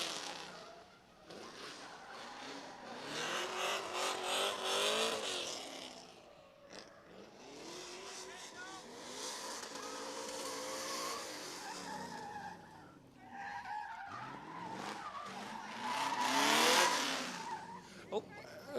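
Drift car at a drift pit event, engine revving hard with long tire squeals and skids, loud and continuous, rising and falling in waves, with crowd noise and talk over it.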